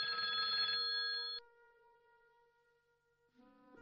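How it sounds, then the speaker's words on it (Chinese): An urgent telephone bell rings in a rapid burst, then its metallic tone rings out and decays before a faint new ring begins. "一阵急促的电话铃声打破了宁静"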